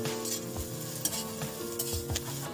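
Grated garlic hits chopped onions frying in a pan for shapla dal, giving a steady bright sizzle with scraping spoon strokes stirring the mix, close up.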